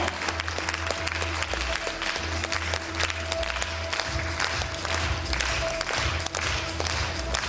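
Sustained, dense applause from a crowd at a 25th-anniversary concert of a rhythm-ballet troupe, steady and enthusiastic throughout with a low hum underneath, no clear speech on top.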